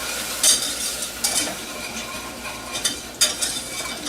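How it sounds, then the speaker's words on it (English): Flour is whisked into loaded baked potato soup in a Ninja Foodi pressure cooker, making a continuous soft scraping stir with several sharp metallic clinks of the whisk against the pot. "I'm going to be whisking that away for about 2 minutes until it gets nice and thick"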